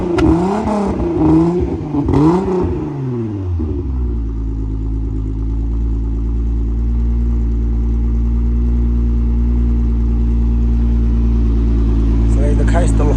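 A VR6 engine swapped into a car revs hard a few times through its exhaust, rising and falling snarls up close, then settles into a loud, steady idling drone with a short burst of talk near the end.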